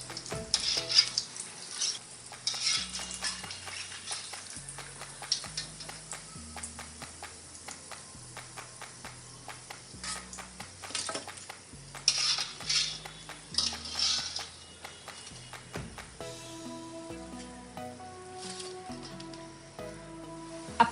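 Vada for Mumbai-style vada pav frying in hot oil, a steady soft sizzle under repeated clinks and scrapes of a metal utensil against the pan, with faint tonal sounds toward the end.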